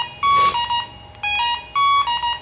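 An MP car alarm module gives several short, high electronic beeps in quick uneven bursts as a remote syncs, loud and close over a faint background hiss.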